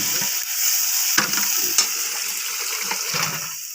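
Garlic and onion with sugar frying in a pan, a bright sizzle with a few sharp clinks and scrapes of stirring, close and unaccompanied.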